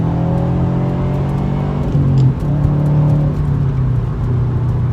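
A car accelerates hard in third gear at wide-open throttle on a back road, the engine drone loud and close, climbing steadily in pitch inside the cabin.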